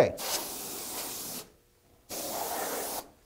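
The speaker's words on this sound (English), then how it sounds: "We want to make sure we get those areas with compressed air." Compressed air sprays inside the cavity of an Oki C711wt white toner printer during maintenance, in two loud, steady hissing bursts of about a second and a half each, separated by a short silent pause.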